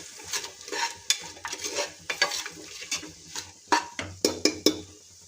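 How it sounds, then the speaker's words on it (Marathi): Garam masala being stirred into vegetables frying in oil in a pan for Indrayani rice matar pulao, with a steady sizzle beneath repeated close scrapes and clicks of a spoon against the pan, growing busier toward the end. "एक चमचा मी घालून घेतलेला आहे छान असं फिरवून घ्यायचं"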